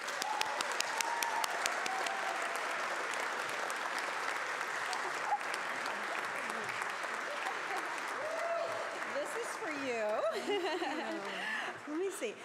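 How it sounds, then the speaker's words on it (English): Sustained audience applause fills a gala ceremony hall, a steady wash of clapping with scattered chuckles and murmured voices near the end. "with a round of applause."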